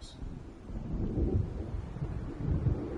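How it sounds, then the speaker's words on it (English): Thunder from an approaching storm in the video game Alan Wake, a low rolling rumble that swells and fades in waves, with soft wind and rain texture underneath. "It seems there's a storm coming."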